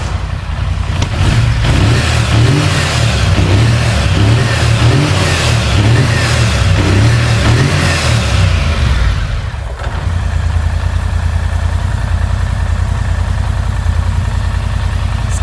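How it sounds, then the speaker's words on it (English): A four-wheeler ATV engine, repaired and throwing a fault code, revs hard up close, surging in repeated pulses for several seconds before dropping back to a steady, loud idle. "let's see if this thing will rev right now"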